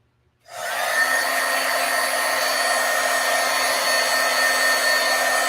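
Handheld heat tool or hair dryer drying ink on a stamped card, switching on abruptly after a brief silence and then blowing as a loud, steady whirring hiss with no talking.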